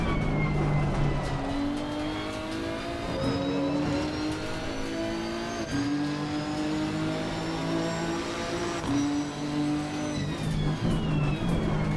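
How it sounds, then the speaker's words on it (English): A 2020 Nissan GTR GT3 racing car laps Mount Panorama in Assetto Corsa Competizione. The engine drones loudly and steadily, rising in pitch through each gear with brief dips at the shifts. "So let's jump in the car. Go make a lap here around Mount Panorama,"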